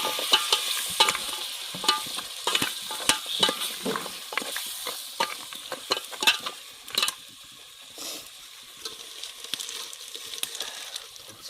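Goat leg soup mixture being stirred in a pan, a long run of rapid scraping and clinking strokes over a low sizzle, close up, easing into sparser stirs toward the end, with no one talking.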